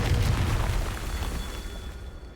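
A Confringo spell explodes in the video game Hogwarts Legacy, a loud booming blast at the start that rumbles and slowly fades over a couple of seconds, with no voice.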